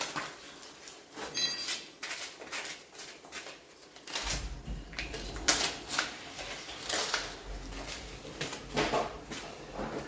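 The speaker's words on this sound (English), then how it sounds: "A bit of under slab plastic here that's got to come up." Builder's under-slab plastic sheeting being pulled up by hand: irregular crinkling, rustling and scraping bursts close to the microphone, with a low rumble joining partway through.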